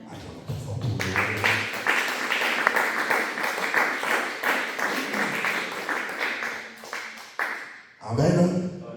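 A church congregation bursts into loud, sustained applause and clapping that fills most of the stretch, with voices mixed in and a burst of speech near the end.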